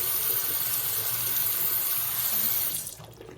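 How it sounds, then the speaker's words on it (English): Steady running water from a tap rinses a neti pot, a close, even gush that cuts off near the end. "I just rinse it really, really good."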